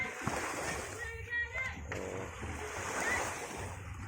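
Sea waves wash steadily onto a beach shore in the late afternoon as the tide rises, a continuous rushing surf with soft splashes rising and falling and a light wind over it.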